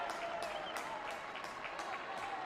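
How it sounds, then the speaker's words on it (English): Steady applause and clapping from a football crowd at a Birmingham City v Nottingham Forest women's league match, a dense, continuous patter with no voices standing out. "And Lindström among those to bring the applause"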